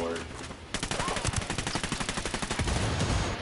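Rapid automatic gunfire in the video game Ghost Recon Wildlands, a sharp burst after a brief pause, then a fast even string of loud close shots lasting about three seconds.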